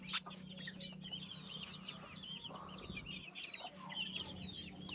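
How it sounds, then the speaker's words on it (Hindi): Chickens and chicks cluck steadily while pecking at scattered grain, several birds chirping over one another at close range, with one sharp louder call at the start and a low hum underneath. "कुछ मुर्गे चूजे आए हैं, कुछ अभी नहीं आए, क्योंकि वहाँ पे भी दाने बहुत पड़े हुए हैं, चुग रहे हैं।"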